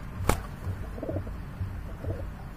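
Milk-white pigeons at a pigeon market give soft, low, repeated cooing calls, preceded by one sharp snap, close by with no talking.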